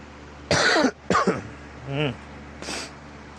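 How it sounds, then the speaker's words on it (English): Several harsh coughs in quick succession, close and loud, followed by a throat-clearing sound and one last shorter cough. "Sorry for the coughing."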